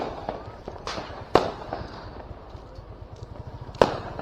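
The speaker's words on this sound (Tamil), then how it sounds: "பார்த்து வெடிங்க, பக்கத்திலேயே வெடிக்குது." Diwali firecrackers go off close by in two sharp, loud bangs a couple of seconds apart, with crackling and background commotion between them.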